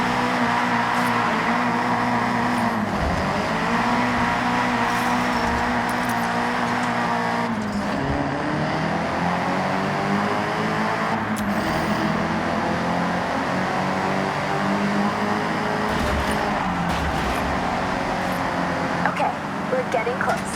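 A Nissan Silvia drives in Forza Horizon 6, its engine droning steadily with shifting harmonic tones through the whole stretch, loud and continuous, with a narrating voice over the top.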